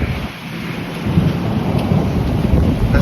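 A severe thunderstorm with heavy rain is heard from inside a shelter: rain pours steadily while a deep thunder rumble rolls through, loud and close, with no talking.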